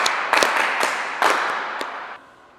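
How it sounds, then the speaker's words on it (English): Scattered applause from a small school audience, a handful of sharp claps bunched together over a couple of seconds, moderately close, then tapering off to quiet. "Let us give her another round of applause."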